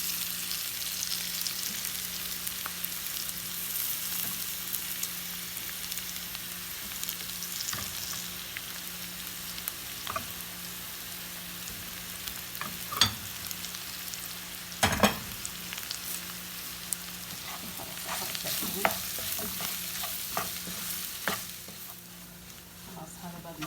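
Boiled potatoes for a dosa filling hit a pan and are stirred, a faint continuous sizzle broken by occasional sharp clinks and scrapes of the spoon, close and quiet.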